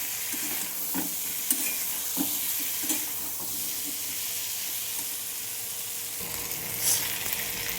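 Jackfruit seeds and black chickpeas being sautéed in a pan, with a steady close sizzle and repeated scraping strokes of a spatula, the sizzle softening near the end.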